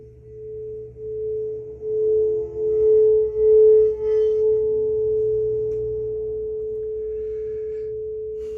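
A steady, pure meditation tone for the throat chakra hums alone for several seconds, swelling gently in loudness early on before settling into an even, sustained drone.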